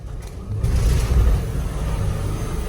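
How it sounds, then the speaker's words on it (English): A Mercedes Sprinter 3.0 V6 diesel van accelerates with its turbo, giving a steady, close, low engine rumble that swells briefly and then holds. No voices. "Oh yeah, I can definitely hear the turbo spooling"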